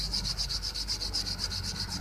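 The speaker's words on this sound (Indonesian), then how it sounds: "Kita bisa gunakan amplas untuk meratakan bekas gelombang ini" Sandpaper rubs back and forth across a steel plate used for sharpening hair clipper blades, a rapid, steady rhythmic scratching with regular strokes, close and continuous, no talking.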